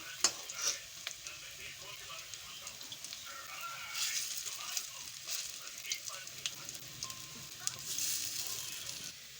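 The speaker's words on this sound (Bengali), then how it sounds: "বড়াগুলো উল্টাই দিচ্ছি এক পাশে ভাজা হয়ে গেছে" Lentil fritters (bora) fry in a pan of hot oil with a steady close sizzle, broken by occasional clinks and scrapes as they are turned.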